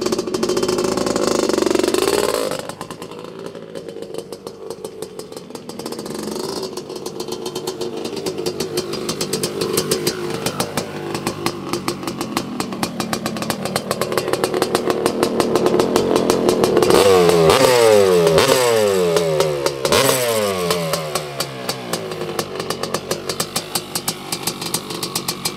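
A freshly restored 1983 Honda CR250R two-stroke race motorcycle runs loud and close, idling with a crackling buzz, then revving up in rising and falling blips toward the end.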